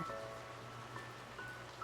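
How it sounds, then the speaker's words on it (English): Soft, steady rain patters continuously in a virtual-reality world, a faint even hiss with light tonal music hovering in the background. "The rain's nice."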